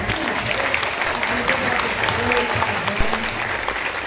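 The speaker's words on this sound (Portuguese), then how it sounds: "Vamos dar uma salva de palmas." A church congregation at a baptism service applauds together, a brief dense burst of clapping with voices mixed in underneath.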